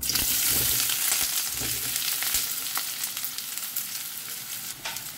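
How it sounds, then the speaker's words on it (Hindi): Sliced onions frying in hot oil in a wok, a steady, loud sizzle with crackling that slowly settles slightly over several seconds, close and continuous with no talking. "एक 2 मिनटां आनी एका बरें फ्राय करून घेता"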